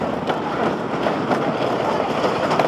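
Racing roller coaster trains at Kings Dominion give a loud, steady roar with rumbling and rattling track noise that holds for the whole stretch and never stops.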